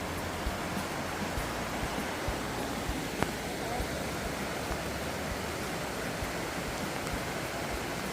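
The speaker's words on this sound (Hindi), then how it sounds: "गाइस ये आप देख सकते हो एक खूबसूरत सा झरना।" A waterfall in a mountain valley along a high, cloudy road, heard as a loud, steady broadband roar of rushing water that stays constant throughout, with no clear voices over it.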